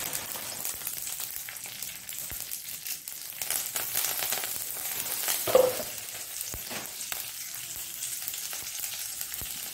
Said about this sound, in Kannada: ಸಾಸಿವೆ ಹೊಡೆದಾಗ ಉದ್ದಿನ ಬೇಳೆ, ಕರಿಬೇವಿನ ಸೊಪ್ಪು,